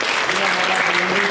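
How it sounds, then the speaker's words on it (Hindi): A crowd at a religious procession in Himachal Pradesh claps loudly and continuously, a thick, close burst of applause with a faint tone running beneath it. "एक बार झांकियों वालों के लिए बहुत जबरदस्त तालियां बुलाइए"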